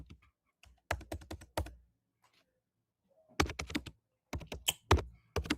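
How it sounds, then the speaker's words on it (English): Keys clatter on a computer keyboard in two quick bursts of close, crisp typing, separated by a pause of near silence. "I'm typing something in the toolbar"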